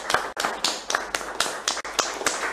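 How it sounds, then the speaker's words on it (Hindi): Scattered hand claps from an audience at a government scheme launch in Raipur, about ten sharp, uneven claps spaced irregularly, fairly close and moderately loud. "सभी तालियां बजाएं अपनी जगह जहां जहां आप देख पा रहे हैं।"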